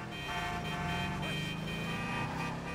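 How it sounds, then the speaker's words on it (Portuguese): Car horns honk on the streets of Los Santos in Grand Theft Auto V, sustained overlapping blares layered over a dense rumble of traffic and engine noise. "Buzina nervosa aí a galera, hein?"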